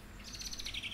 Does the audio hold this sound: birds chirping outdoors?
yes